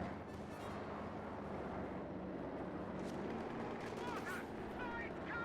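MG-34 machine gun fire in Company of Heroes 2 rattles in short bursts among other battle sounds, a dense, rumbling game soundscape with sharp crackling bursts toward the end.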